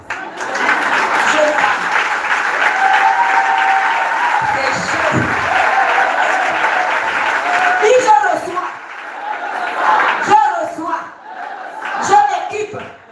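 An audience at a church singles talk show breaks into sustained applause mixed with crowd voices and cheers, fading into scattered claps and talk toward the end.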